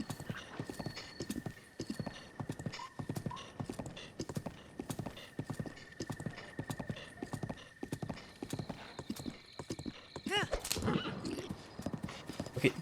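A horse gallops in a video game, its hooves thudding in a fast, steady clip-clop rhythm, close and continuous, with a whinny and brief chiming tones near the end.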